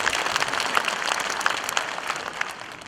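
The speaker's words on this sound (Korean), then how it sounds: "큰 박수 부탁드리겠습니다" An audience at a residents' meeting on relocating the Daegu military-civilian airport gives a short burst of applause that fades toward the end.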